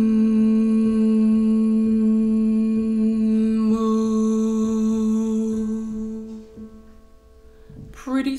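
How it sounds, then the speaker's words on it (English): A single voice hums a steady sustained note near A below middle C in a vocal exercise, then opens into a brighter "moo" vowel on the same pitch before trailing off, close and clear. "we're going to start with a hum and then we're going to transition to a moo"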